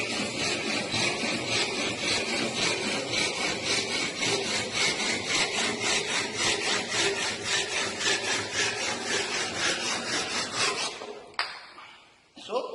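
A hand saw cuts through a wooden workpiece in a woodworking shop, steady rhythmic rasping strokes close to the microphone for about eleven seconds before stopping abruptly, followed by a brief knock.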